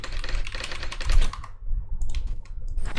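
Rapid clattering keystrokes on a computer keyboard as a chat message is typed, close and steady with a brief pause midway before the tapping resumes.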